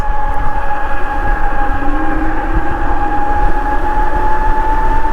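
A Fabulous Road Warrior electric bike motor runs at full throttle on a drained battery, giving a steady, continuous whine with constant wind rush and road noise, loud and close throughout.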